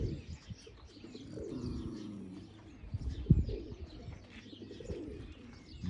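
Pigeons coo in a loft, several birds making low, throaty overlapping calls with soft chirps and a brief flutter of wings, close and steady throughout.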